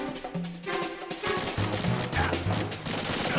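Rapid gunfire from the stealth action game Metal Gear Solid 2 rattles in a dense burst over a game soundtrack, moderately loud with overlapping shots and low sustained tones throughout, no talk heard.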